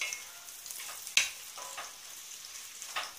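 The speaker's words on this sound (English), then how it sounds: "Give that a little stir." Carrots being stirred as they fry in a pan for fried rice, a soft steady sizzle with scraping strokes and one sharp clink of the utensil against the pan, no talk.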